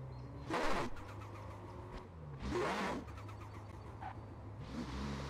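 Porsche engine in the racing game Forza Horizon 4 rises and falls through several revving bursts at mid distance, each swelling loudly then dropping back to a steady idle hum, with no voices.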